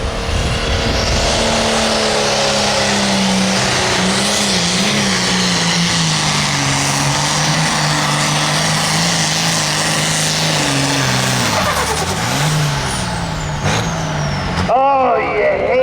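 A hot farm tractor roars loud and steady down the track in an NTPA tractor pull at the Rush County Fair in Rushville, Indiana. The engine pitch climbs and wavers throughout, then cuts off abruptly near the end.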